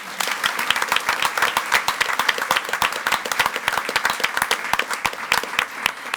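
Audience at a school board meeting applauds for an honoree, a dense round of many hands clapping steadily and fairly close, with sharp individual claps standing out throughout.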